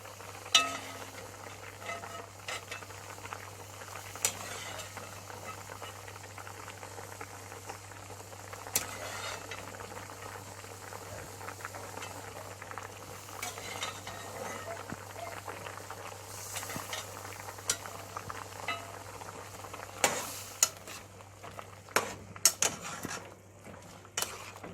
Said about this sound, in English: So now the peas and the meat are going to be cooking together.